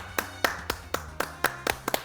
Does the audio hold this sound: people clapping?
yes